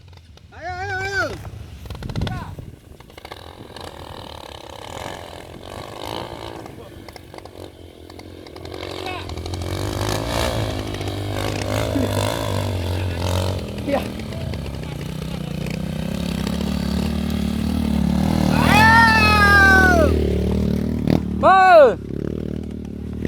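A trail motorcycle on an off-road trabas ride in Aceh Singkil revs hard at full throttle, its engine rising and straining loud and close, with riders shouting over it.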